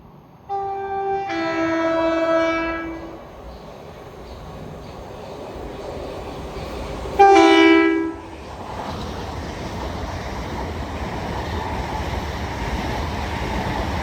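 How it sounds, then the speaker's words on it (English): A Southern passenger train bound from Littlehampton to London Victoria passes through South Croydon station, sounding two loud horn blasts, a longer one followed by a short one, over the steady rumble of the train. "Soon to pass through now will be a Southern service, working a service from Littlehampton to London Victoria."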